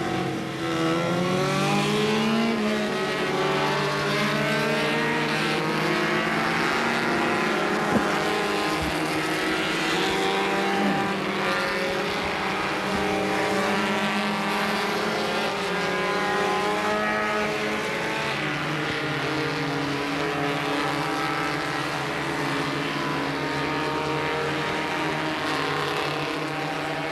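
Cars in the 1980 Runoffs H Production race circle the course, their engines droning and rising and falling in pitch as several cars overlap in a continuous roar.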